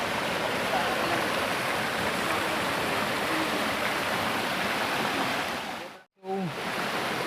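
Steady broadband rush of a river flowing near Busay Falls in Capoocan, Leyte, loud and continuous throughout, with a brief dip near the end as the sound is momentarily muffled.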